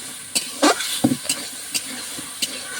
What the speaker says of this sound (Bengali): একটু লাড়াচাড়া করবো, মশলাটা গায়ে মেখে যাবে